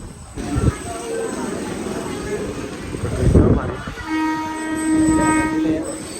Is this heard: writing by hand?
no